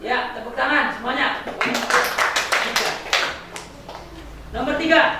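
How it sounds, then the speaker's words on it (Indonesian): A sixth-grade Islamic studies class of children claps together in the classroom, a brief burst of sharp rhythmic hand claps in the middle, with the teacher and children talking before and after. "tepuk tangan semuanya"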